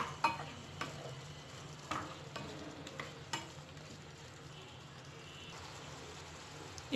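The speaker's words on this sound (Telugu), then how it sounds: "ఇప్పుడు కట్ చేసుకున్న మష్రూమ్ వేసుకోవాలి. 4 నిమిషాల పాటు మగ్గనిద్దాము." Cut mushrooms cook in a pan for mushroom biryani, giving a soft, steady sizzle with occasional clinks and scrapes of stirring, close but quiet and with no voices.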